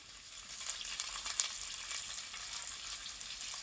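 Onions hit hot oil with lightly browned garlic for dhaba-style kadhi, giving a close steady hiss and crackle with faint stirring scrapes, no voices.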